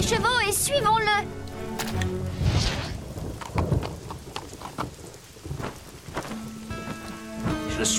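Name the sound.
thunderstorm rain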